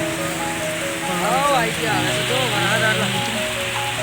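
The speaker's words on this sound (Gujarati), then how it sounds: "વરસાદ પડે છે" Heavy rain pours down in a steady, dense hiss, with voices talking faintly over it.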